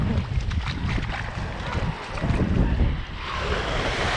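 Ocean surf at Orange Beach, Alabama, washing steadily onto the shore with a broad rushing roar and gusts of wind buffeting the microphone throughout.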